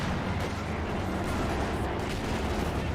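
Dense, continuous battle noise in Company of Heroes 2, with gunfire and mortar blasts blending into a loud, unbroken roar of rumbling explosions and rapid shots.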